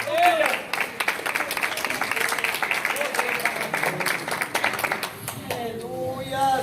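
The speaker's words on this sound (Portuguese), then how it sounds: "Aplauda Jesus." A church congregation gives a burst of sustained clapping lasting about five seconds, dense and fairly close. It fades as a preacher's voice returns at the end.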